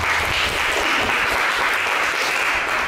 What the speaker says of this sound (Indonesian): silakan tepuk tangan buat Sarah.